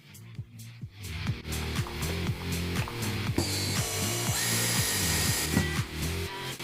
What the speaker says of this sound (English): Yes, we drill it in here.